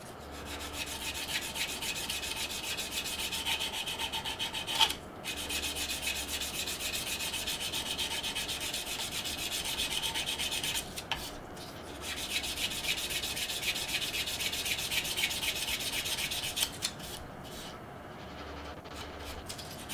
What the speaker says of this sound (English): We'll see if we can sand this sooner rather than later.